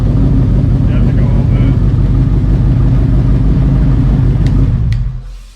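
Ford Aluminator V8 running in a Cobra Daytona build, a loud, steady, rumbling idle with a lumpy cam feel that holds for about five seconds, then quickly fades away at the end.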